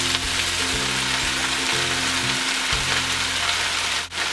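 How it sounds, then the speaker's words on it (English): Blanched kale sautéing in a pan with red pepper, a loud steady sizzle filling the clip close up, with a low hum underneath and a brief dip near the end. "Saute a little bit."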